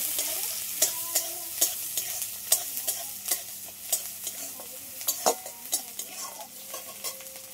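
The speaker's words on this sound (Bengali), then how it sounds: "এবার দিয়ে দেবো পেঁয়াজ কুচি। পেঁয়াজটা একটু হালকা করে আগে ভেজে নেব।" Chopped onion sizzles in hot oil in a wok, with a utensil tapping and scraping against the pan in a quick, irregular rhythm.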